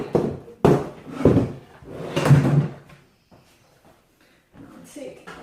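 A kitchen drawer that holds the rubbish bin is pulled open and pushed shut, giving several solid wooden thuds and slides close by, mixed with someone talking during a kitchen clean.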